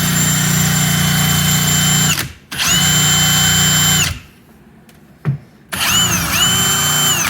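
A corded electric drill whirs loudly in three long bursts, each spinning down with a falling whine, separated by brief near-silent gaps and a single sharp knock.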